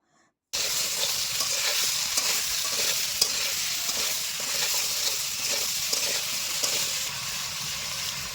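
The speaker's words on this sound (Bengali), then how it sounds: "এবার কেটে রাখা আলু আর বেগুন দিয়ে দেব। দেওয়ার পর এর মধ্যে অল্প একটু নুন আর অল্প একটু চিনি দিতে হবে। ভালো করে কষিয়ে নেব।" Potatoes and eggplant stir-fried in a wok with a little salt and sugar: after a brief silence, a loud, steady sizzle sets in, broken by repeated scraping stirs.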